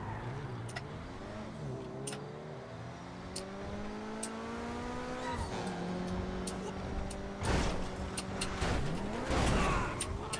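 A turbocharged speed car in GTA V revs and accelerates steadily, its engine note climbing through gear shifts, with sharp clicks and a louder surge of road noise toward the end.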